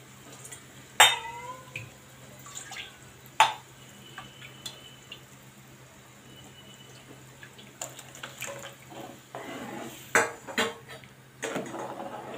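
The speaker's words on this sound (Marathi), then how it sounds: "यात थोडं पाणी घालून मी धुवून घेते।" Water is poured into a grinder jar to rinse ground masala into a cooking pot, heard as faint splashes and sloshing with a few sharp clinks of a metal vessel.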